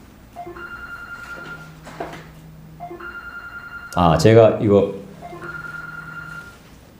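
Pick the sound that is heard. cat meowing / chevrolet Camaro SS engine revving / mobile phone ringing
mobile phone ringing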